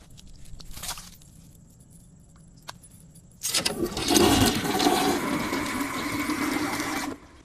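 A toilet flushes in a bathroom, a sudden loud rushing gush of water that starts midway and pours steadily for about four seconds before cutting off, after a few faint clinks.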